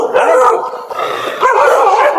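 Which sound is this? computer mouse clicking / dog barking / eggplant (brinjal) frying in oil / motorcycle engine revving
dog barking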